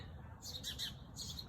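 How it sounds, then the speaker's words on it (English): Small birds at a nest on top of a window, where a mother bird is feeding her young, give faint, high squawking chirps in short bursts against quiet background hiss. "So, can you hear the birds?"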